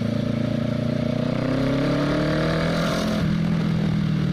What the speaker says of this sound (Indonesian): ini motor tahun 2013 lur dan orangnya yang punya ini mau jual juga motornya